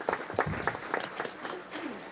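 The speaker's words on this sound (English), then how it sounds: "please give him a round of applause" Applause from a crowd at a council meeting, a dense patter of hand claps that carries on steadily for a couple of seconds.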